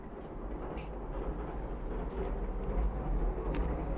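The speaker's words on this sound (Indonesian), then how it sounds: "Jalur kereta." A train rumbles past on a railway line near Okazaki Castle in spring, a steady low, heavy roll that grows slightly louder toward the end, with faint higher clatter and no talking.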